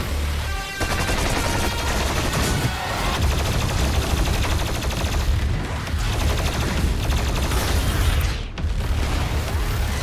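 Heavy gunfire and explosions from the Doom Eternal video game, a dense, continuous barrage of booming shots and bursts at steady loudness with brief dips, no speech over it.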